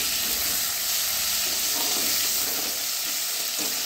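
A tomato and spice paste sizzles in hot oil in a home kitchen pan for a potato curry, a dense steady frying hiss throughout with occasional stirring, no voices.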